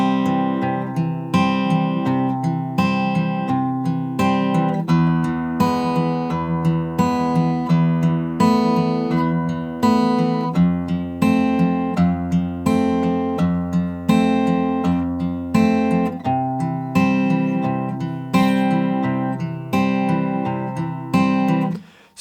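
Acoustic guitar fingerpicking the first chorus of a song, a steady flow of plucked notes over sustained chords, close and even in level throughout, with no voices.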